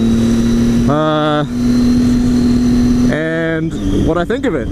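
A Ninja motorcycle engine drones steadily while being ridden, a constant low hum running beneath someone talking throughout, with a few brief tonal rises.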